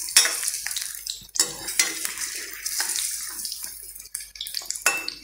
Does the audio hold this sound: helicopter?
no